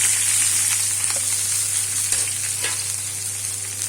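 Capsicum sizzles loudly in hot oil in a kadai, a steady, dense frying hiss that holds throughout with faint stirring clicks and a low hum underneath.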